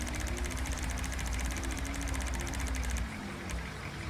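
A Pierce Arrow X fire engine idles in the FiveM game, a steady low diesel rumble with a fast rattling chatter on top that cuts out near the end, leaving a quieter hum.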